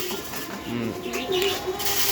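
Pigeons coo softly at close range while being fed in a rooftop loft, their low murmuring calls set against a steady hiss of background noise, with no talking.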